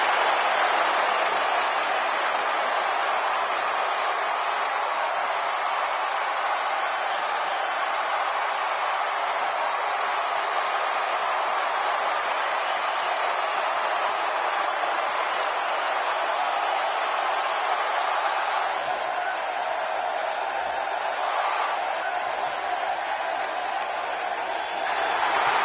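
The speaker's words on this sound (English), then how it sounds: "Judging from the reaction of this Santa Clara crowd, I think we know who the favorite is for this one." Arena crowd at a WWE 2K17 wrestling event in Santa Clara cheers steadily as a broad, continuous roar with scattered applause, filling the whole stretch without letup and with no talk over it.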